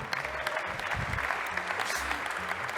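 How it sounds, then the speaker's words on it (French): Applause at a cycling-friendly towns awards ceremony, a steady, moderately loud spread of clapping with some voices mixed underneath throughout. "je pense qu'il mérite d'être applaudi"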